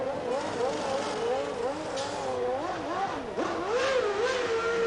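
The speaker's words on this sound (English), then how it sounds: "He certainly had plenty of revs. Wound on the old Renault V10 engine." A Renault V10 Formula 1 engine at the 1993 Japanese Grand Prix revs high in the pit lane, its pitch swooping up and down in repeated blips, loud and close against a murmur of background crowd noise.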